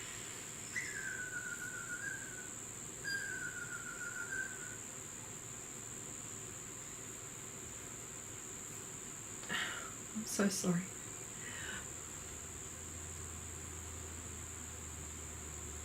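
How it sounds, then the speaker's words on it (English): Cicadas drone in a steady, high, continuous buzz throughout, with a few brief whistle-like chirps and short bursts of speech over it. "Well, I've got cicadas."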